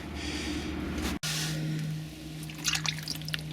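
Engine oil drains from a Mazda CX-3 into a container, making a faint, steady trickle over a low hum that cuts out for a moment and then carries on.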